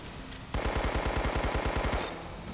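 Rapid automatic gunfire in the Roblox game Arsenal, a loud, close string of about fifteen evenly spaced shots lasting roughly a second and a half, with no talking.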